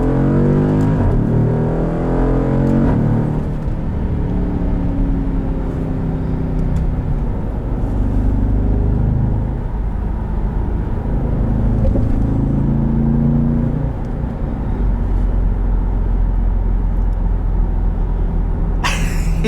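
A 2014 Jeep Grand Cherokee SRT accelerating hard, heard from inside the cabin as a loud, continuous low engine roar with rising and falling tones as it climbs through the gears, steady for around twenty seconds.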